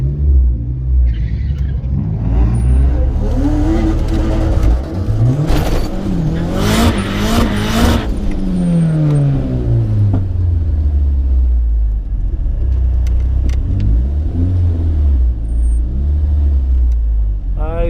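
A tuned car's engine revs hard and roars up through the gears while racing an E90 BMW, loud and close with a deep rumble, a sweeping rise and fall in pitch and brief sharp bursts.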